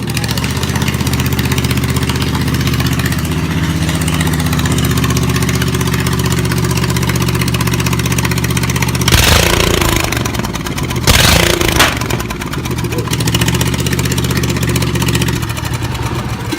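Riding lawn tractor engine running close and loud with a steady rumbling idle, rising in a couple of short revs near the middle before settling back.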